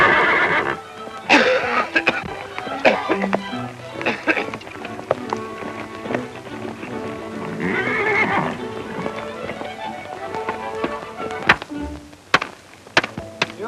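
In an old 1937 Western film, a horse whinnies and hooves clip-clop across the ground amid thuds and movement, with people talking over the action.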